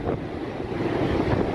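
Wind roars steadily and loudly across the microphone at the tower on Mount Washington, a continuous close buffeting with no other sounds.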